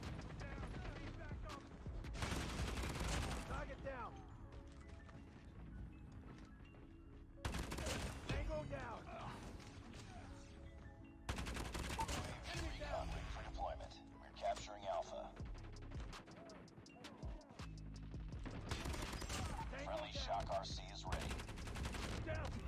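Gunfire from the BK57 rifle in the mobile shooter COD Mobile comes in several rapid automatic bursts separated by quieter gaps, with a player's voice talking between and over the shots.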